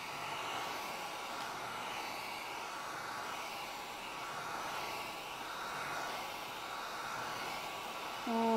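A blow dryer blows steadily on chalk paste, a close, continuous airy whir with slight fluctuations, ending with a brief click and hum.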